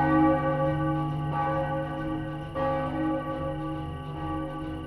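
A village emergency bell in a cartoon rings steadily with a loud, sustained metallic tone, fresh strikes renewing the ringing every second or so and the hum lingering between hits.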